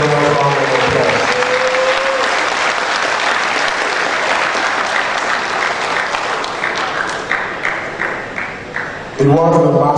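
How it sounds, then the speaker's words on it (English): Loud, sustained audience applause fills a Scrabble championship gala hall, dense clapping with crowd noise throughout, thinning toward the end before a voice returns. "I think that deserves a thunderous round of applause."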